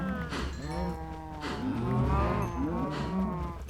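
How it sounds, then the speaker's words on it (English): Video-game cattle moo continuously and loudly, long drawn-out calls overlapping one another from close range, with no speech over them. "These cows are very noisy."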